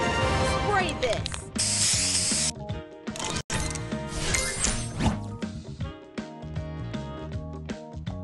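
A spray power-up in a video game fires as a sharp hissing burst amid busy, bright game music with mechanical clicks and ratcheting effects.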